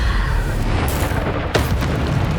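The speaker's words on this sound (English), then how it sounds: "Bombarda! Repulsor!" Spell explosions from Bombarda cast in Hogwarts Legacy, a dense rumbling boom with a sharp burst about midway, set against constant low battle noise.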